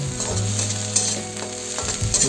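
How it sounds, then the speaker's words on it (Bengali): Loud sizzling of chopped garlic frying in a pan, with a couple of stirring scrapes over a steady crackle. "এবার রসুন কুচি দিয়ে দেবো, দিয়ে এটাও ভালো করে ভেজে নেব"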